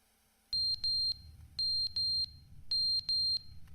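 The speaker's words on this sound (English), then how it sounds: "Can we skip the annoying beeping sound?" Electronic beeping in the video game The Stanley Parable Ultra Deluxe: shrill, alarm-like tones sounding in three pairs of sustained beeps, each pair separated by a short pause, loud and clear over a low background rumble.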